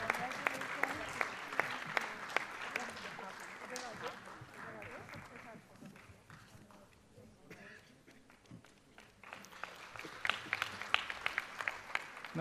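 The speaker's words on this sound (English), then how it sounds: "please give a loud round of applause" Applause at a university health sciences research conclave prize ceremony, with individual claps audible throughout, fading mid-clip and then swelling again, while people talk underneath.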